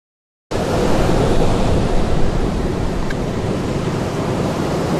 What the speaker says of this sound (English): The crashing waves, the howling wind, it completely transforms the video